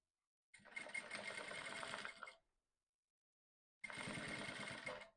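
Sewing machine stitching a bias channel for corset boning onto one side of a seam allowance, in two steady continuous runs of about two seconds and one and a half seconds separated by a silent pause, close and clear.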